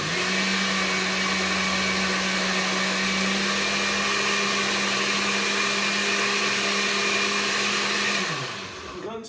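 A cheap $15 blender whirs loudly and steadily, blending a smoothie with a constant motor drone, then spins down as it is switched off at the end.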